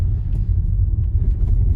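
A Tesla Model Y on snow and ice gives a steady deep rumble of tyres and road noise as it brakes, close and continuous, no talking.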